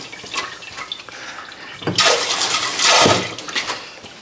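A kitchen utensil is washed under a running tap while making tortillas, with brief clinks first, then a loud gush of water for about two seconds before it fades.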